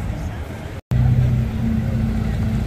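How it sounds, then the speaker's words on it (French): A Porsche GT3 RS supercar rumbles past on a Monaco street with a deep, loud engine drone, a short dropout in the middle, then a steady low growl as it moves by. "Encore une GT3 RS. Énormément de GT3 RS aujourd'hui."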